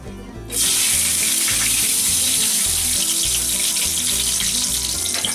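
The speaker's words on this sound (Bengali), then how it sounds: "আমরা পেঁয়াজটাকে একটু লাল করে ভাজবো।" Onions frying in hot mustard oil in a wok in a village kitchen, a loud, dense sizzle that bursts in after a brief quieter moment and then holds steady.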